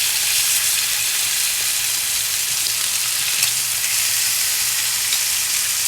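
Picanha steak fat searing in a hot pan, a steady broadband sizzle that holds evenly close by with no talk.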